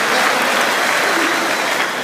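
A church congregation bursts into loud, dense applause right after a closing prayer at a Catholic gathering, a steady wash of many hands that stays even and close from start to finish.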